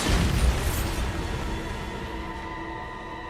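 Bombarda spell explosion in the Hogwarts Legacy video game, a single deep boom at the start that fades into a lingering rumble with a ringing tail.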